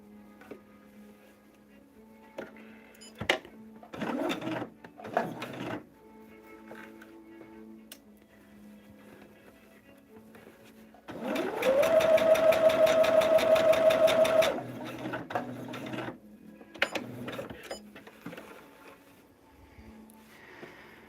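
A home sewing machine stitches fabric star blocks for a table runner in a quiet room, running in one steady, rapid burst for about three seconds, with soft handling clicks and rustles before and after.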